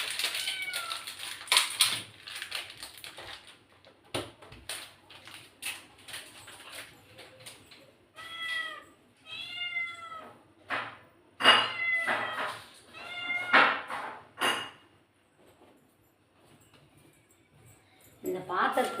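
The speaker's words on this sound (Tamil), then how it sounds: "இந்த பூனை இந்த இதுக்காக கத்துது" A house cat meows again and again in a kitchen, begging for fish, with drawn-out, wavering cries coming in bursts between short quiet gaps, close by, alongside the clatter of pots and dishes and a person talking.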